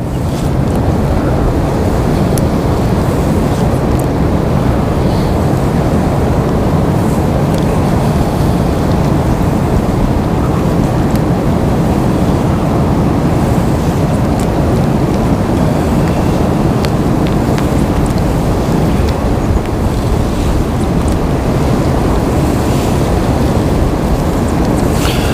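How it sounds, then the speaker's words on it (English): Strong wind roars steadily across an open river, a constant low buffeting rush against the microphone with lapping water beneath, no voices. "The only problem today would be the wind. The wind's going to be kind of tough."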